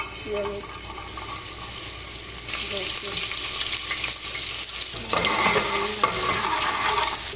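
Onion frying in oil in a home kitchen pan, a steady, broad sizzle throughout with stirring scrapes, growing louder in the final seconds.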